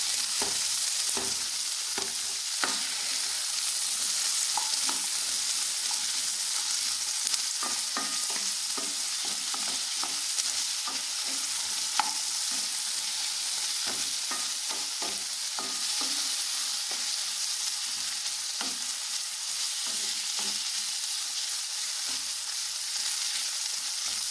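Rose apple pieces are sautéed in a pan for pickle. There is a steady, close sizzle throughout, broken by frequent scraping clicks of stirring.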